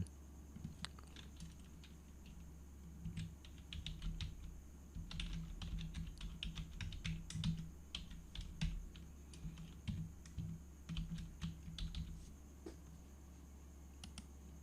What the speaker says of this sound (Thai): พิมพ์โคลอนแล้วก็ตามด้วยภาษาอังกฤษนะครับ